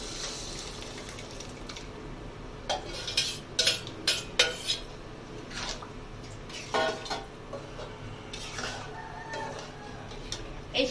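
Boiled lentil dal for a green papaya dal is tipped into a cooking pot and stirred, giving scattered clinks and scrapes of a utensil against metal at close range, with irregular taps over a low steady kitchen background.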